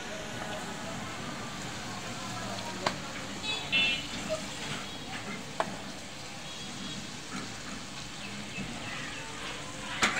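Jackfruit seeds fry in oil in a pan with a steady, soft sizzle throughout, while occasional light stirring clicks and clinks of utensils sound over it.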